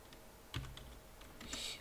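A few quiet keystrokes on a computer keyboard while a loadkeys command is typed during an Arch Linux install, sparse taps with a slightly louder clack near the end, close and faint with no voice.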